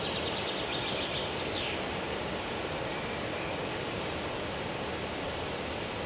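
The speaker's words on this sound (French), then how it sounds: "Les eaux plongent soudainement dans les chutes de la rivière Broad et se heurtent aux rochers" Water of the Broad River falls pours down and crashes onto rocks, making a loud, continuous, dense roar with no breaks and no voices, as if heard from close by.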